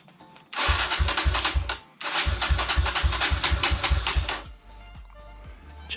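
A Kawasaki KLX140L dirt bike being revived as a project cranks with the starter, catches, then stalls before cranking again, running with a rapid loud chugging that settles into a rougher, quieter idle.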